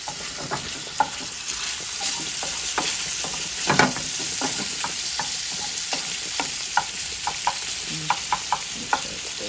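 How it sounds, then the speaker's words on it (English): Chopped bacon sizzles steadily in olive oil in a pan, a bright continuous frying hiss broken by frequent sharp crackles and pops and a few louder utensil knocks, close and fairly loud with no talking. "So I put some olive oil in the pan and I'm going to add my bacon, which is chopped"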